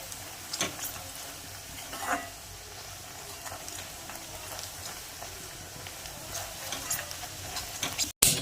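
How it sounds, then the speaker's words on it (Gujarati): Fried onions and masala are mixed in oil in a kadai for stuffed bitter gourd curry. A soft, fairly faint sizzle continues steadily under occasional stirring scrapes and light clinks. "એને પણ સરસ રીતે મિક્સ કરી લઈએ તેલમાં."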